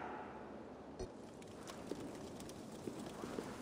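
Horse hooves clip-clop at a steady walking pace in Assassin's Creed Valhalla, fairly close and moderately loud over soft ambient game background, with a sharper knock near the start.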